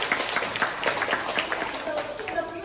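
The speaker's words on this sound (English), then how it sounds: "So everybody, please give him an applause." Scattered applause from a small audience at a Toastmasters workshop, uneven claps in a loose rhythm, fairly close, with murmuring voices underneath.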